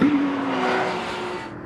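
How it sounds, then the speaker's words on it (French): A Porsche race car roars past at speed on the Val de Vienne circuit during a race, a loud, steady engine and road noise that tapers off at the end. "Avantage à Georges Canas, mais la Porsche numéro 19 de l'équipe Tinso n'est pas loin derrière."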